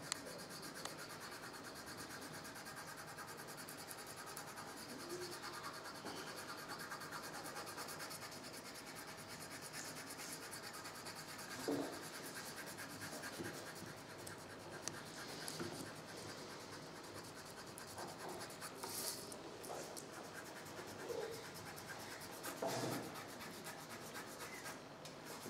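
Soft plastic tool rubbed over paper in steady, quiet, continuous strokes, close by with no talking, during work on inner lines and fixing mistakes.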